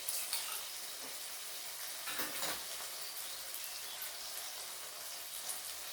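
Ground paste of cumin, coriander and a little black pepper sizzles steadily in hot oil in a pan while cooking mutton curry with potatoes, a soft continuous frying hiss with a brief louder crackle as it goes in.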